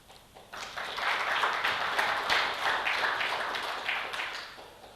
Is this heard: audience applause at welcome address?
yes